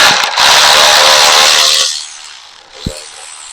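A ratchet wrench backing bolts out of a Ram 1500 grille, heard as a close, steady run of rapid clicking that lasts nearly two seconds, then a quieter pause and one short knock.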